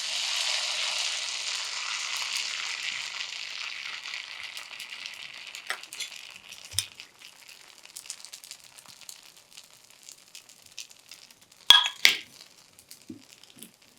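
Horse gram uttapam batter hisses in a steady sizzle on a hot dosa griddle, loud at first and fading over several seconds, followed by quieter scattered crackles and a couple of sharp clicks.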